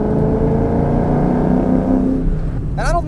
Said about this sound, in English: It has aftermarket exhaust. It's got headers.